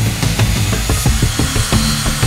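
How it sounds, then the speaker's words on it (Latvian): Saw cutting through a 12 mm plywood board with a laminated surface, a loud, close, rhythmic rasping of repeated strokes with no talk. "Vispirms mēs šo plāksni sagriezīsim nepieciešamajā formātā."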